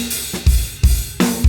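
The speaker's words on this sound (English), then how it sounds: "then you get this wildly modulating, extreme compression effect" Drums pushed through an 1176 compressor plugin with all buttons in give a heavily crushed, pumping sound, with booming kick hits and hissy cymbal wash swelling between them in a steady groove, loud and alone.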